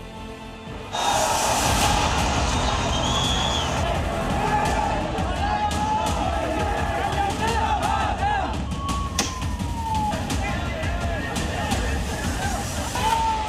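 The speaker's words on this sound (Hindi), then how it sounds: "उन्मादी भीड़ बैरिकेडिंग की दीवार तोड़कर संसद की ओर बढ़ना चाहती थी" A large crowd of protesters marching from Jantar Mantar toward parliament in Delhi and pushing against a barricade wall, a dense, loud roar of shouting and babble that holds steady throughout, with thuds and a reporter's voice over it.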